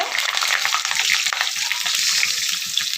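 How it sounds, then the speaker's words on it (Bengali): Potatoes fry in hot oil tempered with bay leaf, cumin and dried red chillies, giving a loud close sizzle over a quick rhythmic pattern of low stirring knocks. "তারপরে দিয়ে দিলাম আলু আলুগুলোকে ভেজে তুলে নেব"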